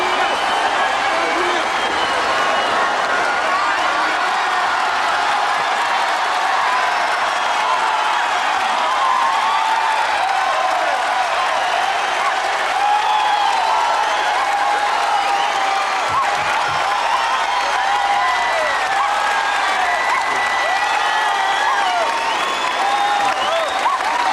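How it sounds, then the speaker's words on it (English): A television studio audience on a 1990s tribute show for a singer bursts into long, unbroken applause with cheering, a thick wash of clapping that stays loud and even throughout. "I just happened to be passing and I heard the applause"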